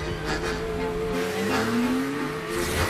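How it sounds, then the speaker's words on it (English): A Nissan Maxima four-door sports car drives hard, its engine note rising in pitch as it accelerates under a dense, roaring wash of road and tire noise, loud and continuous. "Introducing the all-new Nissan Maxima, the 4-door sports car"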